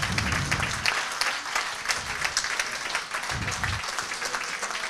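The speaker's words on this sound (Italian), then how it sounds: "vi chiedo un grandissimo applauso per questi concittadini e bibliotecari" Audience applause for volunteer librarians and reading groups at a library presentation, a close, dense round of clapping with uneven swells and a few deeper thumps, steady for several seconds.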